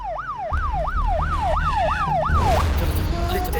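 An ambulance siren wails in a fast, rising-and-falling electronic sweep, loud and close, repeating about seven times before cutting off into a rumble of traffic and street noise.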